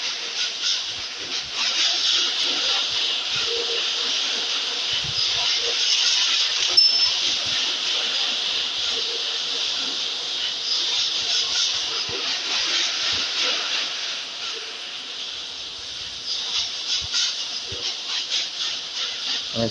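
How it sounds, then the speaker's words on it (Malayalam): A steady video-game train rumble with a broad hiss, rolling through an enclosed tunnel in Indian Bike Driving 3D, continuous and moderately loud with faint clicks. "നമ്മൾ ടണലിലൂടെ ട്രെയിൻ യാത്ര ആയിക്കൊണ്ടിരിക്കുകയാണ്."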